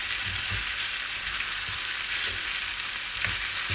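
A big pot of potatoes frying in oil over high heat, a dense, loud hiss of sizzling with a few soft thuds and scrapes as they are stirred.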